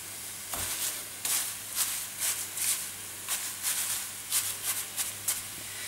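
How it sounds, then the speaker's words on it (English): Nettles and wild leeks sweat in butter in a pan with a soft, steady sizzle. Faint stirring scrapes and taps come through at a gentle, irregular rhythm. "we're just going to sweat these in the pan"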